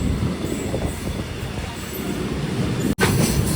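A Mangaluru MEMU train with ICF coaches rolls along in a loud, steady rumble of wheels and rail noise heard from on board, with a brief sharp break near the end.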